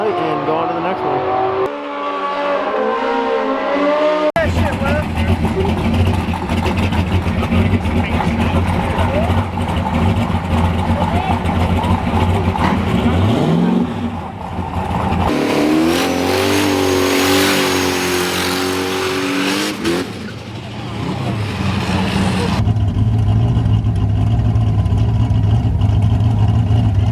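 A 1000 hp boosted Pontiac Trans Am making a drag racing pass, loud engine roaring and revving hard with shifts and a long full-throttle run, under occasional talk.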